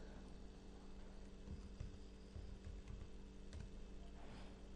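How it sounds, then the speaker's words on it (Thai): Typing on a computer keyboard while entering text in a sign-up form: a steady run of light, close key clicks over a constant low electrical hum, with no talk. "ต้องพิมพ์ข้อความที่เห็นนะครับ"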